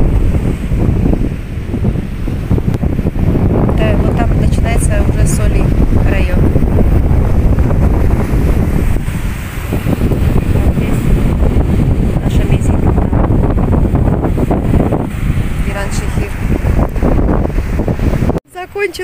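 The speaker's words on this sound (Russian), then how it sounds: "Сейчас же ветер такой сильный." Strong wind buffets the microphone at a sandy seaside beach, a loud continuous roar with gusting surges mixed with surf, steady throughout and cutting off abruptly near the end.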